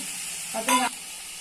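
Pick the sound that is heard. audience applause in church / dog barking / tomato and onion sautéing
tomato and onion sautéing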